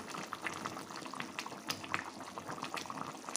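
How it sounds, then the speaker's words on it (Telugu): Stuffed brinjal curry with oil and added water simmers in a pan, a continuous close bubbling and popping with irregular small bursts and no voices. "ఇలా కొన్ని వాటర్ యాడ్ చేసుకొని ఉడకబెడుతున్నాం"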